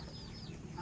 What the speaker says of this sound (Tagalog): May mga manok si mama dito.